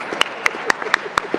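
A handful of separate claps from an audience at a formal gathering, struck in a quick, fairly even rhythm over a murmured background.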